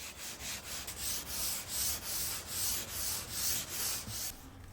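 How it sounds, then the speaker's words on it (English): Rhythmic back-and-forth rasping of a 320 grit sanding sponge knocking down a glossy shellac finish on an antique refrigerator cabinet, about ten even close strokes, with no talking. "I can knock that down with a 320 grit sanding sponge"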